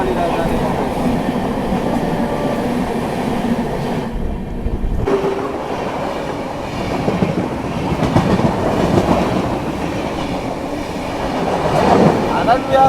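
Haldia Superfast Express train passing in dense fog, a continuous loud rumble of rail cars with steady clickety-clack that briefly drops around the middle and then resumes, with faint voices in the background.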